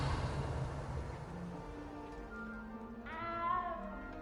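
A frightened little cat in Hogwarts Legacy meows softly several times over low ambient game sound, with a clearer, drawn-out meow near the end.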